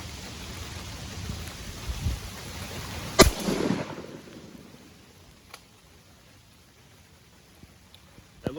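A single loud shotgun blast from a duck-hunting load firing a 5-shot bismuth shell at a target outdoors, a sharp report with a brief rolling echo, over steady rain noise that fades afterward.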